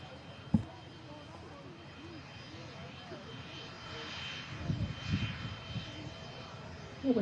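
A Japan Airlines jet climbing away over the runway at Manchester Airport, a steady distant engine roar that swells slightly toward the end while people talk.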